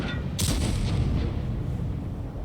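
A tank cannon fires in a tank video game, one heavy boom with a sharp crack that rolls out into a long, loud low rumble. No one speaks over it.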